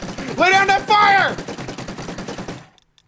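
Rapid bursts of gunfire in a Minecraft game mod, a steady stream of sharp repeated shots lasting a few seconds, with loud excited shouting over the start before the firing cuts off.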